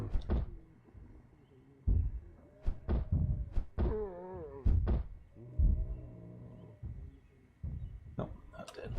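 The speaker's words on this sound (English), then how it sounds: "That banging noise is a zombie that's nearby. Probably past this door here." Zombie pounding on a door in Project Zomboid, a series of dull thuds spaced irregularly across the clip, moderately close, mixed with other game sounds and a voice talking.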